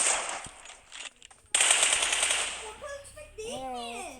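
Sharp bursts of M24 sniper rifle fire crack out in a video game, loud and close, followed by a stretch of noisy gunfire, with a voice talking near the end.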